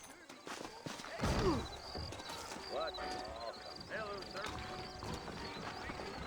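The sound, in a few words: horses trotting in the video game Red Dead Redemption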